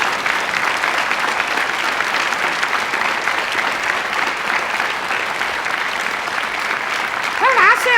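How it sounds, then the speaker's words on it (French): A crowd applauds a guest at a tribute event for Michel Dejeneffe, a steady, dense wash of clapping held at even loudness throughout, with a voice breaking in briefly near the end. "je crois qu'on peut t'applaudir là"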